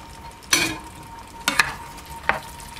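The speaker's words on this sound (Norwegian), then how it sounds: "Og så rører vi den inn." Minced meat being stirred into a homemade pasta sauce in a frying pan, three short scraping bursts of the spoon over a low, steady background hum, close and moderately loud, with no speech.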